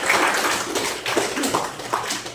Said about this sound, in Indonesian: kalau senang kasih tepuk tangan untuk diri kita sendiri